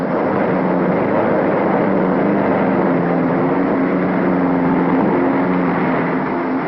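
Race car engines at the 1955 Indianapolis 500 parade lap rumble in a steady, loud, continuous drone with no break or distinct passes, the cars held back in formation.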